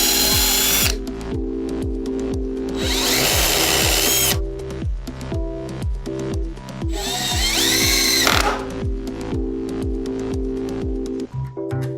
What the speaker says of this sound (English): Then drill, countersink, and screw the top in place.